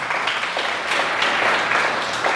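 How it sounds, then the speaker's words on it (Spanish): Congregation applauding during a Spanish-language church sermon, a steady broadband wash of many hands clapping at once, fairly close and even in level for its whole length, with no talk over it. "Dele un aplauso a Dios por eso también."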